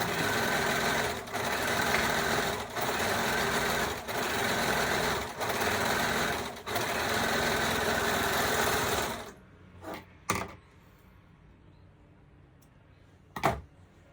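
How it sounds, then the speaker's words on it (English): Overlocker serger stitching the side seam of a skirt's fabric, a loud rapid mechanical whir in several bursts with brief pauses, then it stops and only faint handling clicks and a sharp knock follow. "be careful with the overlocker because you can cut your fabric and spoil it"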